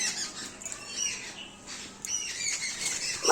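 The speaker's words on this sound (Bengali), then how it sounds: "কি ঝগড়া করছে পাখিগুলো" Birds squawk and quarrel outdoors near flowering trees, a dense, harsh chorus of overlapping calls that rises and falls continuously at moderate distance, with no talking.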